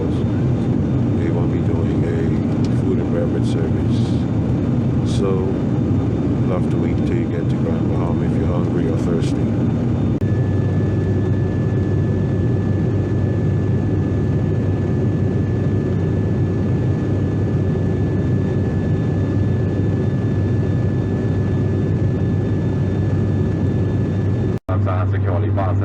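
Steady low engine drone fills an airplane cabin on a short flight from Nassau to Grand Bahama, constant throughout with some muffled talk in the first half and a brief dropout near the end.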